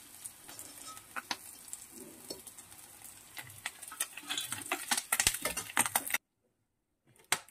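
Small mourala fish fry in oil in a pan, a close crackling sizzle with scattered sharp pops and clicks that builds louder before cutting off abruptly near the end.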